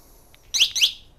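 Two quick bright chirps from an aftermarket two-wire car alarm on a Fiat 500 as it disarms, close and fairly loud. A faint softer blip comes just before them.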